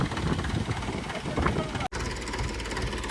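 A Mahindra 475 tractor engine runs steadily at idle, a continuous low rumbling drone close by with one brief dropout near the middle.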